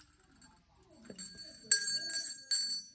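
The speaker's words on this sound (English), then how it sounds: "Ring the bell." A child rings a small bell, giving a couple of bright metallic chimes after some quiet rustling.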